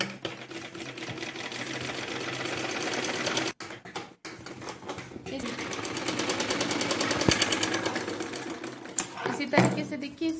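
A sewing machine stitches blouse fabric in rapid mechanical bursts of rattling clatter with brief stops, while a person talks over it.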